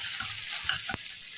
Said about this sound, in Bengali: চাপা দিয়ে দিয়ে ভাজতে ভাজতে সবজিগুলো ভাজা হয়ে গেল